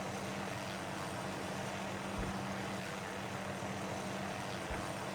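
A video game helicopter drones steadily with a broad rotor and engine roar at moderate distance, continuous throughout with no voices.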